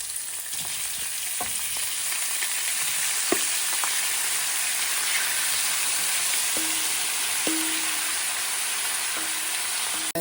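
Seafood fries for a Thai curry, sizzling hard and steadily in a hot pan at close range, with a few faint clinks and stirring scrapes over the constant hiss.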